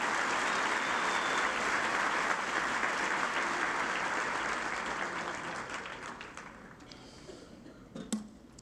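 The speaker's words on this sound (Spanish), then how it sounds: "Démosle fuerte las palmas al Rey" Congregation claps loudly during a Sunday church service, a sustained wash of applause that gradually fades toward the end, with a faint sharp knock near the close.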